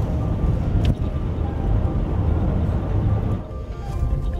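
Range Rover Evoque crawling off-road over packed snow, polished ice and deep ruts on steep ground, a steady low engine and drivetrain rumble close by with crunching surface noise and a brief knock near the start.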